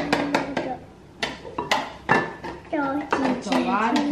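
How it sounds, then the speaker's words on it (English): Ghee going into a bowl of yogurt pancake batter, with close clinks and knocks of a spoon against the bowl, while voices talk over the clatter. "So we're adding the ghee."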